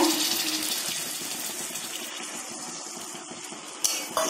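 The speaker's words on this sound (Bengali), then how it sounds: "এবার আমি এখানে জল দিয়ে দিচ্ছি" Water poured into mushroom masala in a pan makes a continuous splashing rush that stays steady and close throughout, with a small clunk near the end.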